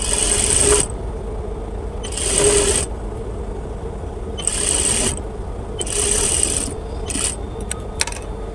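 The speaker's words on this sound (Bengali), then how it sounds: "এভাবে একটু নিচেরটা টান রেখে আস্তে আস্তে সেলাই দিতে হবে" Sewing machine stitching the side slit of a kameez, running in several short bursts of rapid mechanical whirring separated by brief pauses, close and fairly loud.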